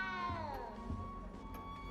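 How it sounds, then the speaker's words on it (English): A frightened little cat in Hogwarts Legacy gives a single long, drawn-out meow that slides downward in pitch, fairly close and clear with no talking over it. "You don't need to be frightened, little cat"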